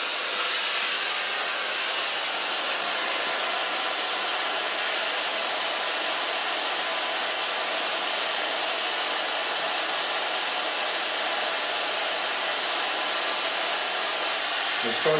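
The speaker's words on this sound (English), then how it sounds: "Blow dry it with the use of a diffuser" A hair dryer fitted with a diffuser blows steadily on hair at a salon, a loud, even, close roar that holds without a break for the whole stretch.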